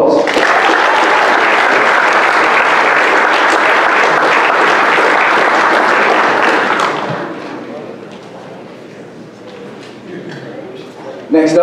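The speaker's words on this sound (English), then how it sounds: "Let's give her a round of applause" An audience at an athletic hall of fame ceremony applauds a basketball recruit with loud, dense clapping for about seven seconds, then it fades to scattered claps and murmuring.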